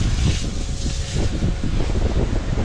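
Strong wind buffets the microphone at an outdoor concrete job, a steady, loud, rumbling roar that never lets up through the whole stretch.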